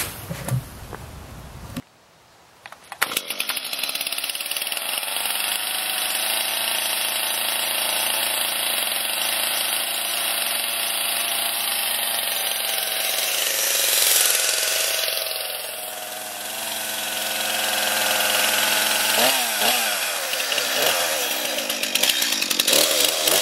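A chainsaw cutting into a tree stump runs loud and steady at high revs, easing down briefly near the middle before revving back up, with the engine drone continuing throughout.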